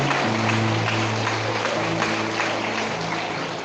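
An audience at a religious talk applauds, a dense continuous wash of clapping held loud and steady for several seconds, with faint voices mixed in.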